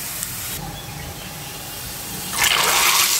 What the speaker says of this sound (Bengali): ডালে ফোড়নটা দিয়ে দিলাম।